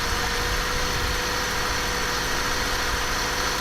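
A 1974 BMW E12 520 idles lumpily after more than ten years without running, a steady close mechanical rumble with a broad noisy hum and no talk.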